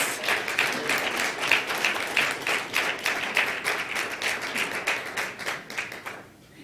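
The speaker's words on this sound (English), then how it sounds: "Let's hear a big round of applause for Pebble Hill students." Parents and attendees at a school board meeting clap for Pebble Hill students, a room-filling round of applause that stays fairly steady and close, then tails off near the end.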